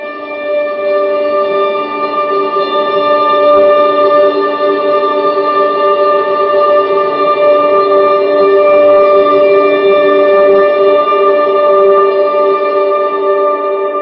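A steady, sustained drone of high electric guitar notes with echo and reverb, holding evenly and loudly throughout without breaks.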